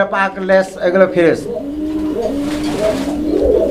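A male pigeon at a pigeon market coos in short repeated bursts close by, partly under someone talking.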